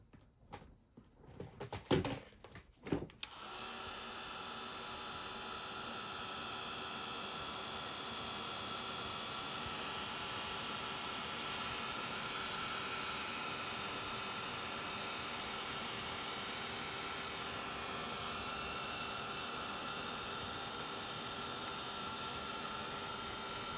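A hair dryer runs steadily on art journal tags after a few handling knocks at the start, its broad whooshing blow continuing close and unbroken with no talking.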